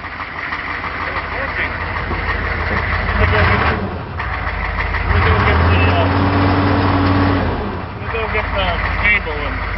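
A car engine idles low and steady at about 600 rpm during a turbo and manifold repair, a continuous rumble running under close talk throughout.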